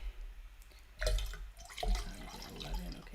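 Water poured into a small bottle at a desk, heard as two short splashing bursts of liquid over a quiet room background, fairly close and moderate in volume.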